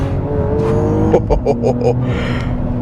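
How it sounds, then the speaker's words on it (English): Close exhaust note of a 2022 Mercedes-AMG GLE 53 SUV with a 3-liter engine rising under acceleration, with a quick run of about five sharp crackling pops in the middle before the engine settles. "you can still hear a little bit of the exhaust"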